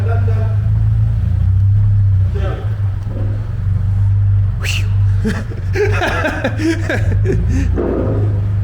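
A Toyota GT86 runs on a dyno at a performance shop, a loud close engine drone holding a steady low tone throughout while people talk and laugh over it.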